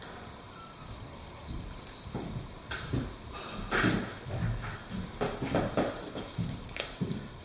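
A multimeter's steady high-pitched continuity beep sounds briefly near the start, followed by scattered clicks, taps and handling noises at close range.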